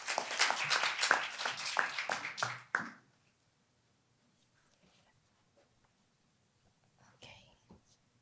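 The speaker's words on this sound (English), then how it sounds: "Please welcome our next speaker with a round of applause." An audience at an international development conference gives a welcoming round of applause to the next speaker. The clapping is loud and dense for about three seconds, stops abruptly, and a few faint stray noises follow in near silence.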